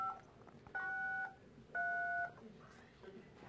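Phone keypad dialing tones from a wearable multitouch projector's projected touch interface, three short two-tone beeps of about half a second each, spaced evenly, fairly loud over faint background talk.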